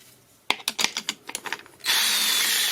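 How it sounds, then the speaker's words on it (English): A series of short clicks and whirring bursts, then a new Harbor Freight power drill spins up and runs steadily at a loud, high pitch, close by. "Okay, I got a drill and"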